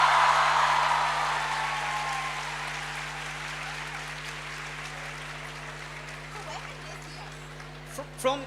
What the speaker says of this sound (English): A huge round of applause for all those guys on the screen.